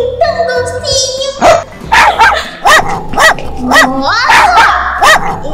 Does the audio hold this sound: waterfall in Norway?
no